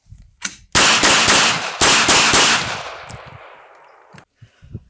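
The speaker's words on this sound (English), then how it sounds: "Glock 19, combat distance 15 feet." A Glock 19 compact 9mm pistol fires a rapid string of about six loud, sharp shots at a 15-foot combat distance, each crack close and echoing, with the reverberation fading out afterward.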